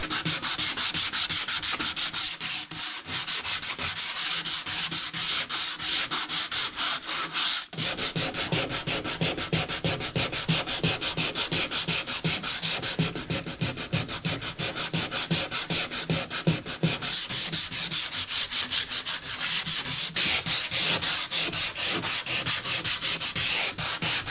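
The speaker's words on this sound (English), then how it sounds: "I'm just going to scuff sand the base now to get on to painting the base." Scuff sanding the wooden base of a 1900s art deco dresser by hand makes a steady, close, continuous rasping scrape that runs unbroken and fairly loud throughout, with no talking.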